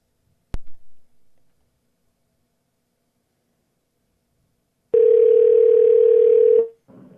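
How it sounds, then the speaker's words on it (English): A steady telephone dial tone on a call sounds alone for about two seconds after a sharp click and long silence, ending with a brief tail. "It sounds like a phone."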